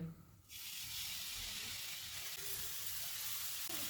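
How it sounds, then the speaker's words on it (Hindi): Chopped walnuts roast in a frying pan over medium-low heat, a steady close sizzle and hiss starting abruptly after a brief quiet moment and holding level, with faint scraping underneath and no voices. "फ्राइंग पैन में चॉप किए हुए अखरोट डालेंगे। चूल्हे को मीडियम लो रखेंगे। इनको 2 से 3 मिनट तक भूनेंगे।"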